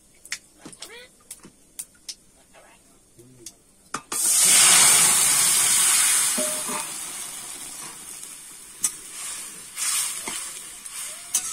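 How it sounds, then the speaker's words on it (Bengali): Tempered spices in hot oil hiss suddenly and loudly as telakucha greens are added for a chocchori. A few sharp clicks come before the burst, then the sizzle gradually settles into a softer crackle with utensil taps. "ফোড়নটা কিন্তু আমার ভাজা হয়ে গেছে, এবারে আমি"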